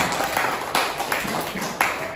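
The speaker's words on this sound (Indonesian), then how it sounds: "Tepuk tangan untuk teman kalian" Classmates in a school classroom give a short round of applause for a fellow student, light scattered clapping at moderate distance with a few sharper individual claps near the end.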